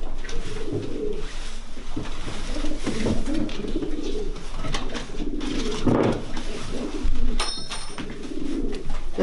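Breeding pigeons coo repeatedly in a loft, soft rolling calls close to the microphone over a constant background hum, with a brief higher sound near the end.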